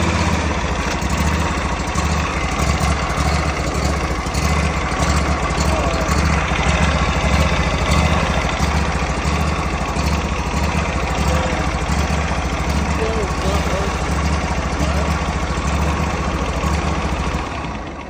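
The small engine of a lawn tractor drones steadily at idle, loud and close, holding an even hum throughout with no talking.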